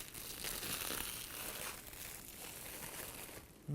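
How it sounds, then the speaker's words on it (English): Continuous soft crinkling and rustling of paper being peeled off a domed mimosa cake, close and fairly quiet, with no talking. "Take the paper off."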